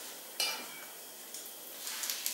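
Pancake batter sizzling on hot frying pans, one of four skillets going at once, a steady close hiss with a sharp burst near the start and brief flare-ups toward the end.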